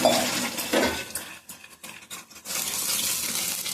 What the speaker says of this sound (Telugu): ఈసారి కొద్దిగా వాటర్ పోద్దాం